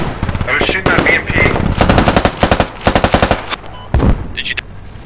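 An M240G machine gun fires in rapid, loud bursts at close range in a combat game setting, with several sharp rattling volleys separated by short pauses and brief voices between them.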